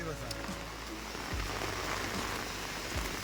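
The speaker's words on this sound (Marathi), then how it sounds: "बघा पाऊस बघा किती आला जोरात" Steady, dense rain pours down close by, a constant broadband hiss with occasional low thumps, while a voice talks intermittently over it.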